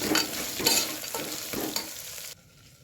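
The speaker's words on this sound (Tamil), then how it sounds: "இது இந்த அளவுக்கு மசிச்சதுக்கப்புறம் நீங்கள் அதில் ஆயிலில் போட்டுக்கோங்க." Crushed black pepper and cumin fry in hot oil with a steady sizzle while a spoon stirs in several scraping strokes close up, then the sound drops off suddenly near the end.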